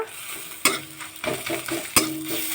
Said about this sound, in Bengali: প্রথমে আমি কড়াইতে তেল গরম করে পেঁয়াজ কুচি দিয়ে দিলাম